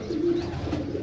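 Pigeons kept for sale coo steadily in a low, continuous rolling murmur that fills the whole short moment, close by and with no voices over it.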